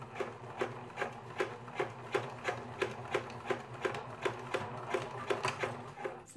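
A sewing machine stitches a zigzag through fabric and stabilizer for a tutu skirt, giving a rhythmic series of evenly spaced clacking pulses at a brisk, steady pace up close.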